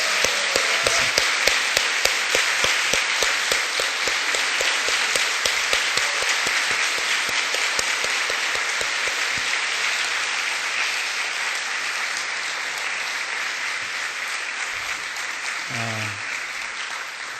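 A church congregation applauds, with dense, loud clapping throughout and a rhythmic group beat at the start that gives way to steady, sustained applause.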